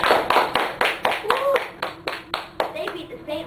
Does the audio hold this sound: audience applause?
yes